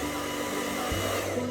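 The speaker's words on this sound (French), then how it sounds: "Il va falloir régler le sèche-cheveux à la température maximale" A hair dryer runs at maximum heat to warm and flatten pains au chocolat, giving a steady, close, continuous whirring blow with a faint shift in motor tone partway through, heard alone.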